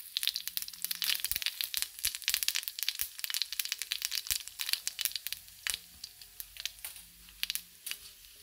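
Mustard seeds splutter and pop in hot oil for sambar, a dense, continuous crackle of sharp close snaps that thins out and turns sporadic toward the end.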